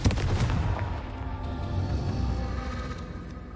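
A Confringo spell explodes in a wizarding video game, a sharp loud boom at the start trailing into a rumbling decay that lasts a few seconds, with no voices.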